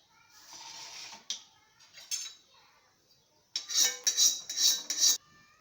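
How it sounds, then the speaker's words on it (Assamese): A metal wok set onto a gas stove in a home kitchen gives a sharp clank, then a later burst of close metallic rattling and scraping against the burner. "তাৰপিছত মই কেৰাহীটো পাতি দিলোঁ।"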